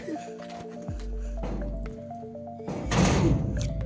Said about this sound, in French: Fermeture des portes.